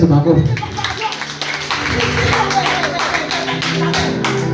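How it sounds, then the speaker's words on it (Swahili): Church congregation clapping for Jesus during a main Sunday service, rapid crowd clapping mixed with voices and background music, fairly loud and continuous throughout. "Piga Yesu makofi."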